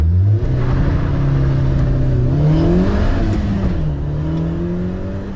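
A sprint car engine at the Lydden Hill Sprint is blipped through a few revs, a loud, close, continuous drone whose pitch rises and falls in waves, heard alone.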